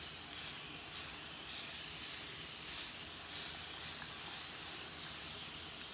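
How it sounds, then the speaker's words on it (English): Spray bottle of water misting hair, a rapid series of short, close hissing spritzes in a steady rhythm, roughly one every half second to second, with no talk. "First things first, my handy dandy spray bottle of water."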